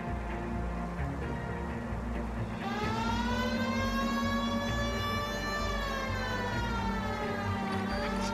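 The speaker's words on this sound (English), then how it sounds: "Why don't you use the siren?" A police car siren in the LA Noire video game wails in long rising and falling sweeps over steady engine and road noise, starting a few seconds in and staying loud.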